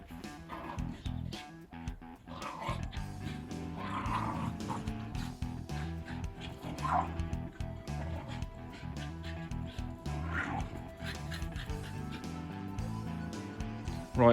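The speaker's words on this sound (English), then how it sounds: "The dogs seem to be quite excited about us" Excited dogs barking, yipping and whimpering near a Ford Transit van being converted into a camper, the calls scattered and fairly faint over a steady background of noise and hum.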